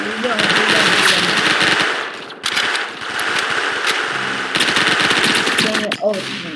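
Rapid automatic gunfire rattles in a shooting video game, dense bursts that run almost continuously with a brief break midway, while players talk over the action.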